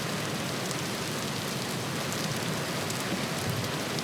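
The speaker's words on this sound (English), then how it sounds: "Nice rainy day. The rain is going to help our crops grow faster." Rain falls on a farm with crops in the survival video game Vintage Story, a constant broadband hiss that stays level and close for the whole stretch, with no speech over it.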